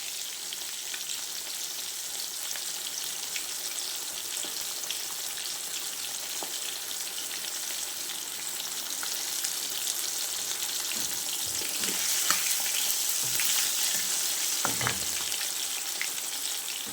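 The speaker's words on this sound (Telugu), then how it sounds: "చూడండి, ఫిష్ ఫ్రై చేసేసాను, అయిపోయింది. డీప్ ఫ్రై చేసాను" Vanjaram fish deep-fries in hot oil, a steady close sizzle and bubbling that holds for the whole stretch and grows slightly denser near the end, with occasional soft clinks and no talking.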